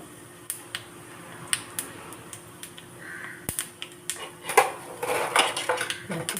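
Mustard seeds and cumin spluttering in hot oil in a small ladle for South Indian curd vada tempering, sharp scattered pops and crackles growing denser toward the end, close and alone.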